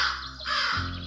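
A cartoon crow lets out a loud, harsh caw that runs about a second, close and alone with no talking.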